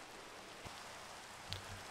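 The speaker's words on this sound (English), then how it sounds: "Well, of course it's raining." Rain falling in the TerraFirmaCraft modded Minecraft game makes a soft, steady hiss that stays faint and even throughout, with a couple of light taps. No voices are heard.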